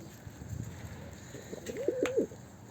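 A single pigeon coo rises and wavers near the end, close by, over faint background rustling.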